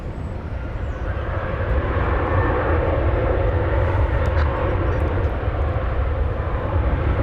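A jet airliner takes off from runway 18 Left at Dallas/Fort Worth Airport, its engines making a steady, loud, broadband roar that holds for the whole stretch with no talk.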